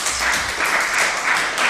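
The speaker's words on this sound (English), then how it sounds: "applause" A lecture-hall audience applauds after a doctoral thesis defense in management ends with the degree being awarded, a dense, steady burst of many hands clapping together.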